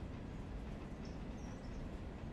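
A train backs slowly through a yard in the railroad simulation game Railroader, a low rumbling roll with faint wheel squeaks, quiet and distant.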